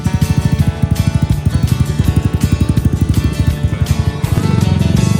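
A motorcycle engine idling loudly up close while warming up before a ride, a fast, even thumping pulse that holds steady and then runs slightly quicker near the end, with no voices.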